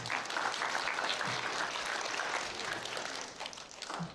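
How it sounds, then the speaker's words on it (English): A school assembly crowd claps steadily and loudly for about four seconds, a dense wash of hands from many pupils and staff that stays even throughout with slight fading near the end. "Round of applause."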